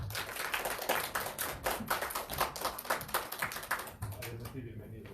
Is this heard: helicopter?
no